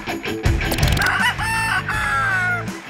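A rooster crows loudly and close by, one long drawn-out cock-a-doodle-doo with a few clucks at the start.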